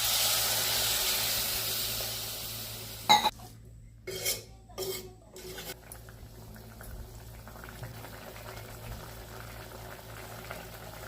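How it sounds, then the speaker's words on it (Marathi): Hot water meets a pan of eggplant and potato curry with a loud hissing sizzle, then brief clattering splashes settle into a quieter steady bubbling boil. "आता गरम पाणी ओतून घेऊया।"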